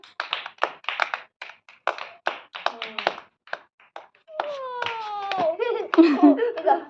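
Friends at a game clap for Nani, the winner, scattered close claps in short irregular bursts, followed by a child's raised, wailing voice and chatter over continued tapping.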